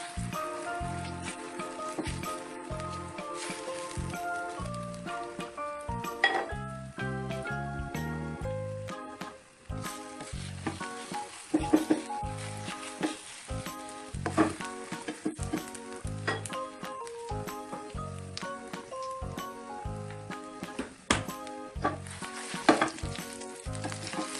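Korean ramen omelette with tom yum seasoning fries in a pan, a steady sizzle and crackle running beneath prominent background music for the whole stretch.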